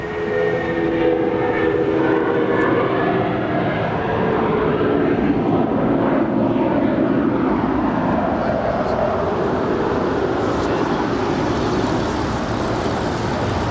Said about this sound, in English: That is United Airlines Flight 786 departing to Newark Liberty. It's a Boeing 757-200.